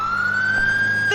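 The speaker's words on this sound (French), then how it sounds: "L'ambulance est là!" An ambulance siren wails as the ambulance arrives at an emergency scene, a loud, steady, continuous tone that rises slightly in pitch across the whole moment.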